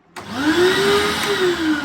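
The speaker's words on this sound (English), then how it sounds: "This is a heavy, hefty vacuum." A 2005 Hoover WindTunnel self-propelled upright vacuum cleaner switches on and runs, its motor rising to a steady, loud, whining drone that holds close and alone.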